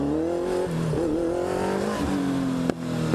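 A motorcycle engine idles and revs close by during slow-speed practice in a parking lot, its steady drone rising and dipping as the throttle opens and closes, with one sharp knock near the end.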